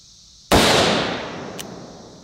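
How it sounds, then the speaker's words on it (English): A single sharp gunshot from a Taurus Ultralight .44 Magnum revolver, loud and close, with a hard crack followed by a long decaying echo and no talk. "shoot the 44 Magnum out of the Taurus Ultralight 44 Magnum revolver"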